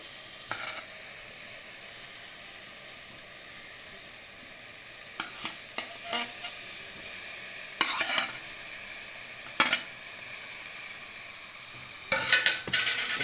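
Eggs and potatoes sizzle steadily in a pan as they are sautéed with spices. Occasional scraping stirs of a spatula rise over the constant frying hiss.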